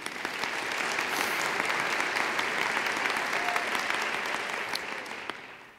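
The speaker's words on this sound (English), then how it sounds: "I would ask that each individual rise when I introduce her to receive our appreciation and applause" Steady, dense audience applause fills a university College of Education fall convocation hall, continuing evenly throughout and tapering slightly at the end.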